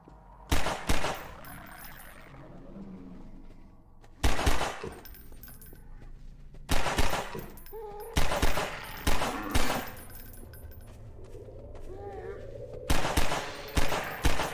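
Gunshots from a gun in the Half-Life 2 VR game, sharp loud cracks fired singly and in quick pairs at irregular intervals, with a voice speaking between them.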